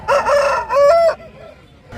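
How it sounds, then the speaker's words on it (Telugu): A rooster gives one loud, close crow in two drawn-out phrases at a Gudur poultry market selling roosters, followed by a quieter stretch of market background. "సో ఇది ఒక పుంజు ఉంది"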